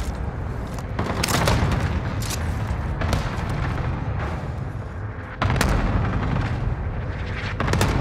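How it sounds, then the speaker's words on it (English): Cluster strike in a multiplayer shooter video game, a rapid string of heavy explosive booms and crackling blasts, loud and close, with brief gaps between bursts. "Enemy cluster strike incoming."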